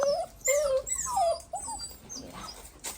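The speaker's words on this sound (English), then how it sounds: "crying to come in because they've been out and done their business and they want to go in the dry" Puppies outside whimpering and whining to come in out of the wet, with high-pitched, wavering cries that come close together and sound near.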